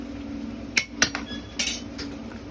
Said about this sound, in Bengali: ঝোলটা গাঢ় করার জন্য এখন কিন্তু আলুগুলো গেলিয়ে দেওয়া হচ্ছে